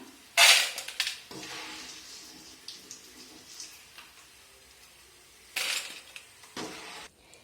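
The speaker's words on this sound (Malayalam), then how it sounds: "എണ്ണയിൽ നിന്ന് കോരി പാത്രത്തിലോട്ടിടാം" Fried jackfruit chips scooped from hot oil into a bowl, with two sharp clattering scrapes of a metal scoop against the vessel and softer clinks and oil sizzle between them.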